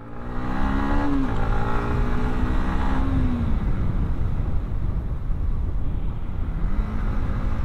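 A motorbike with a faulty engine revs hard up close, a loud steady roar with rising and falling pitch sweeps and a rough, rattly undertone that carries on throughout.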